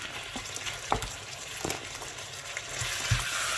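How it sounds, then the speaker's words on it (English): Turkey mince and onion fry together in a pan, a soft continuous sizzle with a few scraping stirs and light knocks, close by and fairly quiet, with no voices. "I'm going to add my turkey mince to the onion."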